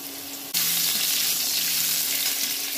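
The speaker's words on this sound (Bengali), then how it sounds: "ওই তেলের মধ্যে আমি এক এক করে সবজিগুলো ভেজে নেব। আলুগুলো দিয়ে দিলাম" Potatoes dropped into hot oil for a paneer and mixed vegetable dish set off a sudden loud sizzle that stays as a bright, steady hiss of frying.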